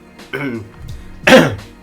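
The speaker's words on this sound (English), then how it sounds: "Clear my throat." A voice speaks briefly, then a short, forceful throat clearing rasps close to the microphone, followed by a quiet trailing sound.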